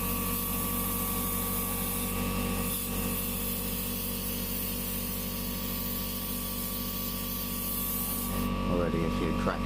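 A paint spray gun with the trigger barely pressed, misting paint onto a miniature diorama, giving a constant close airy hiss that runs unbroken and shifts slightly near the end.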